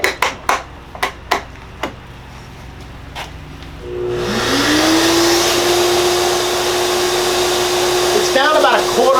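Cordless Milwaukee M18 Fuel router being blown clean with compressed air: a few sharp taps come first, then a loud, steady hiss of air that holds to the end, with a faint voice over it near the close.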